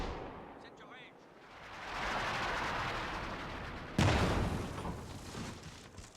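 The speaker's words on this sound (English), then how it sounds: "Looks like he's shelling where that mortar was sitting before" Artillery shelling in Company of Heroes 2, a dense rumbling barrage of distant blasts with a sharp louder impact about two-thirds through, continuing as a broad roar.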